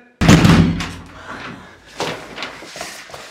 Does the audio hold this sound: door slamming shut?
yes